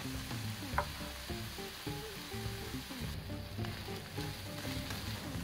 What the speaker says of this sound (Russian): Обжариваю говядину из мелко порезанного мяса, благо испарится быстро